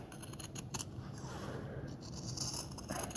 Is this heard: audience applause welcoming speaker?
no